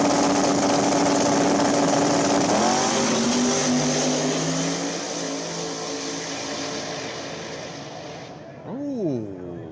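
Loud, close race cars roar through a True Street drag racing class with wings and radial tires, engines droning steadily at high revs before one passes with a rising and falling whine near the end.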